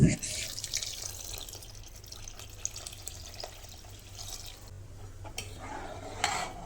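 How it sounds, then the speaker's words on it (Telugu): Water poured into an okra tamarind stew, a continuous splashing pour that runs for several seconds up close, then trails off into light drips and stirring. "ఆ తర్వాత దీనికి మనం ఎంత వాటర్, ఇంకా సరిపడిన వాటర్ యాడ్ చేసుకొని కలుపుకోవాలండి"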